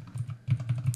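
Fingers tapping keys on a computer keyboard while entering a phone number, a close, steady run of soft clicks with a short pause midway.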